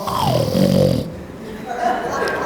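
A voice imitates soldiers snoring in deep sleep, giving a drawn-out rasping snore followed by a softer second breath, close and alone.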